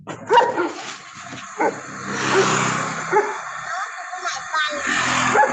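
A dog barks and yips intermittently in the background of an online panel discussion, with a few sharp bursts over ongoing talk from the participants.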